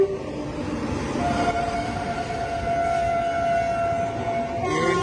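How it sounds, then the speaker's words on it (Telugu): A train runs along the adjacent track beside a stopped Bokaro Express at Bapatla station, a steady broad rumble with a sustained horn-like tone throughout, fairly close and loud, no talking. "అటు సైడ్ ట్రాక్ పైన ఒక ట్రైన్ అయితే వస్తుంది."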